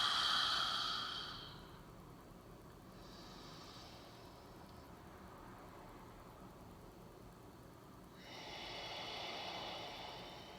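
A slow, deep exhale during a guided breathing exercise, a soft airy breath that fades out, followed by a quiet pause and then another gentle breath near the end, close and low in level.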